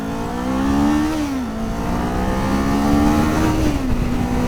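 A 2023 Kawasaki Z400 motorcycle engine revs up and eases off twice, its pitch rising and falling smoothly, fairly close with a throaty 399cc parallel-twin tone.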